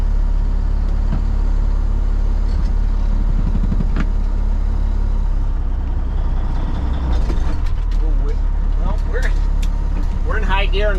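Cabover truck with a 13-speed shifter idling with a loud, constant low engine drone, mechanical clunks as it goes into gear, then uneven sputtering, with a voice talking near the end.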